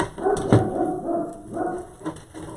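A single dog barks and yips indoors just after a UPS delivery driver arrives at the door, several short sharp bursts over about two seconds, fairly close and fairly loud, with no one talking.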